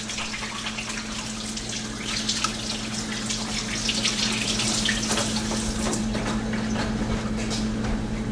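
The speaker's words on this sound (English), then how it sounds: "let me wash my hands" Tap water runs steadily into a sink while hands are washed, making a close, continuous splashing hiss. Faint hand movements break up the flow now and then, and no one speaks.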